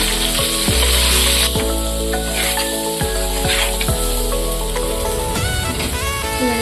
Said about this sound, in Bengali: ওর মধ্যে দেবো হলুদ গুঁড়ো, নুন, ভালো করে নেড়ে নেব।